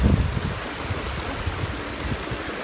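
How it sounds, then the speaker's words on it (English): A small stream rushes and babbles over rocks beside a waterfall on a hike, a steady close-up water wash with no voices. "The stream's coming down from over there."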